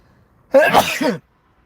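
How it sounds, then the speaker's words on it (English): A single loud sneeze, close up, short and voiced, with silence before and after. "Excuse me a sec, brother. I got to sneeze."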